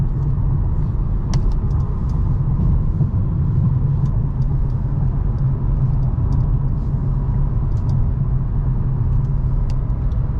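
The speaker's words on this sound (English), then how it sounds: "Accelerate up to speed." 2018 Honda Clarity plug-in hybrid accelerating up to speed, heard from inside as a loud steady rumble of road and drive noise with faint occasional clicks, no voices.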